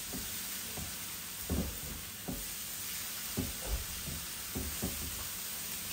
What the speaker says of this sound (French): J'ai rajouté mes légumes. Je vais saisir un petit peu.